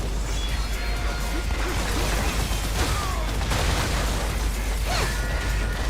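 Explosions and mechanical bursts from combat in the action game Freedom Wars Remastered, a dense continuous clatter of blasts and crashes with sharp pops near the end, no voices over it.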